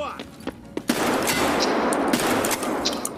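Gunfire in the video game Escape from Tarkov, a few sharp single shots followed by a loud, rapid burst of sustained automatic fire, close and intense.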